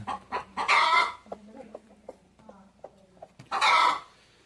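Chickens cluck close by in short, scattered bursts, with two louder, harsher squawks standing out between the softer clucks.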